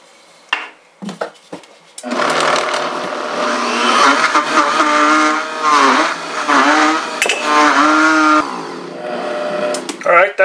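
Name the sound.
blender grinding vegetables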